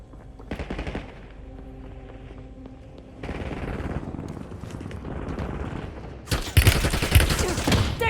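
Sustained automatic gunfire in a shooter video game with SMGs, dense rapid bursts that swell louder toward the end, with game voice chatter mixed in.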